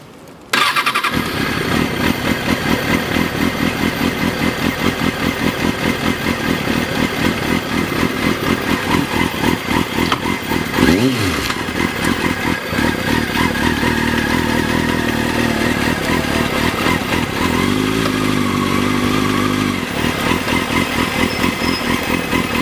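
A Kawasaki Ninja 636 sport motorcycle cranks and starts, then runs loud and close with a buzzing idle and a rising rev partway through before settling back down, with no talk.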